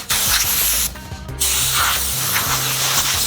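A plastic speaker mount in a Porsche audio install is sanded flat with rough, hissing strokes that run close and loud, with one brief pause in the middle.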